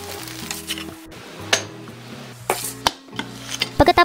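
Hotdog sandwich bread sizzles in a frying pan while being flipped and pressed with a utensil, with soft scraping and tapping knocks over the steady frying hiss and a few sharp clinks near the end.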